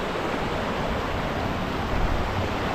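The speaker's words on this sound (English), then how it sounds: "Nice little cascade of water coming down there through the waterfalls." A small waterfall cascade on a Scottish mountain stream near Beinn Ghlas makes a steady, dense rushing wash of water, even and continuous with no voices.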